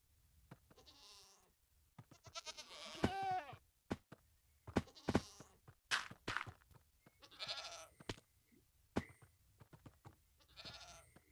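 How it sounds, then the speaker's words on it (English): Baby goat bleating in Minecraft, a string of short wavering cries repeating irregularly, fairly faint and alone without talk. "I think baby goat."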